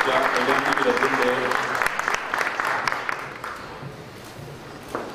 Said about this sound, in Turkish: Güçlü alkışlarla birlikte hayırlı olsun diyoruz.